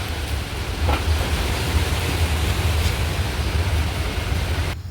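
Steady, loud rushing wind blows continuously before a rain shower, a broad unbroken roar with no talk.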